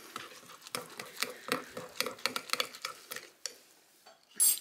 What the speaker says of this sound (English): we're just gonna stir that all up.